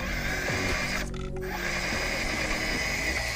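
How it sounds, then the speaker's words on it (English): A UDiRC licensed Toyota Prado Land Cruiser RC trail rig crawls over dusty rock, its small electric motor whirring steadily and fairly loudly with a brief dip in the whine partway through. "the motor does seem kind of loud"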